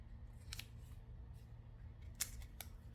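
Scissors snipping through material during a diamond painting craft session, with a few short crisp cuts near the middle and two more toward the end over quiet room noise.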